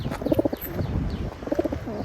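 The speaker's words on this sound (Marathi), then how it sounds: "तर तुम्हाला दाखवतो कबूतर." Pigeons coo nearby in rounded, repeated bursts, with faint chirps of small birds mixed in behind them.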